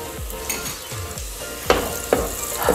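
Onions fry in a pan for a waterhen and dove qorma, with a steady sizzle, low clunks of the pan, and a few sharp clinks of a spoon stirring.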